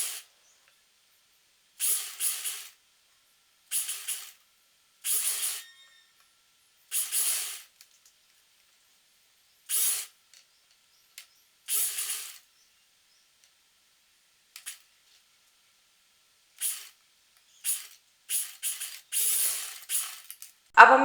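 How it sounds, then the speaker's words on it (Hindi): A home sewing machine stitches a long layered kurti in short bursts of a few seconds each, separated by quiet pauses, with a light, hissy mechanical whir that stays fairly faint. "मशीन थोड़ी धीरे धीरे चलाएं।"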